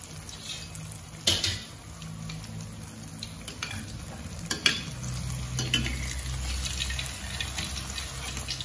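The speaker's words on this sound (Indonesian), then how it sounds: "Goreng pisang, pisangnya manis." Banana slices fry in a pan of oil, with a steady sizzle broken by sharp scraping and stirring clacks of a utensil, then a louder bubbling hiss building toward the end.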